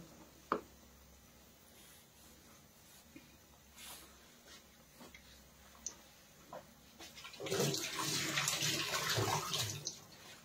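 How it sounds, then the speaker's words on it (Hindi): A kitchen tap runs over hands being washed, starting as a steady splashing rush two-thirds of the way in, after a few quiet clicks and handling sounds. "तो एक बार मैं हाथ धो लेती हूँ"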